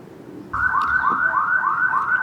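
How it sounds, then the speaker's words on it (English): A neighbor's car alarm going off, a loud repeating warbling siren that starts abruptly and cycles in even sweeps, heard alone. "My neighbor's alarm has been going off every day, like 3 or 4 times a day."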